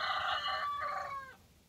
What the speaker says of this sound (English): And roosters drive me crazy.